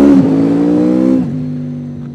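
A Ford Transit van drives along with a steady engine hum that drops in pitch partway through as it shifts or eases off, heard close and alone.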